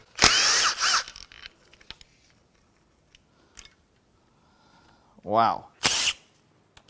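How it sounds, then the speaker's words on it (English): Power tool unbolting the rails on a sludge-filled Hyundai Equus 5.0 Tau V8 engine: a close, loud whirring burst at the start, near silence, then a brief exclamation and another short burst. "Now I can unbolt the rails."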